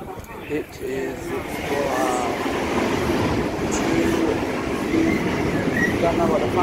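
A train rolls through Woy Woy station, a steady loud rumble of wheels and carriages filling the whole stretch with faint squeals on top, while people talk over it.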